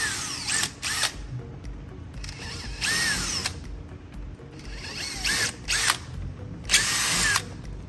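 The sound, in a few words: power drill drilling holes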